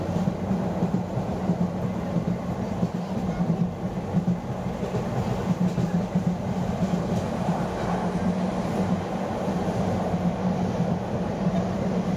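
Riding inside a moving train passing Laksam: a constant, loud low rumble of wheels and carriage with a steady hum and faint rattles fills the whole stretch, with only a hint of voices in the background.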